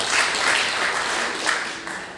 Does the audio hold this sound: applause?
yes